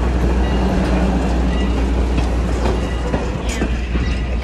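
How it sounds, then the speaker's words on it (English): A train pulls in at the Strasburg railroad with a loud, continuous rumble and clatter of rolling wheels and cars, close by and unbroken. "Train's coming in now."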